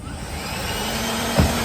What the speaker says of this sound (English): I'm gonna blow the floor up.